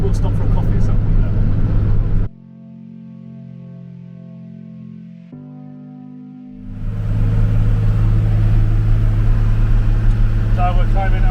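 A truck grinds slowly up a steep autobahn hill in a queue of lorries at low speed, its engine a steady low drone. It is heard from inside the cab, with a quieter stretch in the middle before the loud hum returns.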